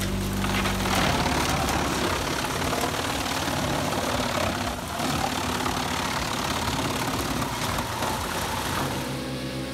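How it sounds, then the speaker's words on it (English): A Brux 806 CT wood chipper used in forestry and biomass work runs steadily, a loud, constant engine rumble and mechanical roar that holds for the whole stretch. "The Brux 806 CT chipper plays a vital role in the forestry and biomass industries"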